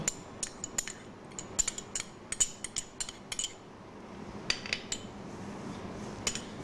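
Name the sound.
pounding herbs in a mortar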